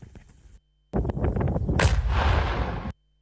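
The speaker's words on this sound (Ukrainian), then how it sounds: "Увага! Вибух!" A short burst of noise, then after a brief gap a loud, sharp blast followed by a rolling, roaring rumble that fades out after about a second, as sappers detonate wreckage of missiles and Shahed drones in Ukraine.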